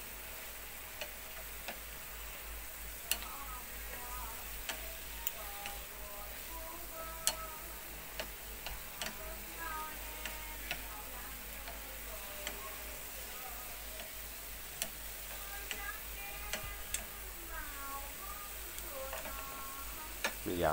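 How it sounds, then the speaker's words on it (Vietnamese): Mustard greens stir-fry in a pan with a soft, steady sizzle, punctuated by frequent light clicks and taps of a utensil tossing them back and forth, while someone talks over the cooking. "mình cứ đảo tới đảo lui hoài cái phần rau cải nó chín đều"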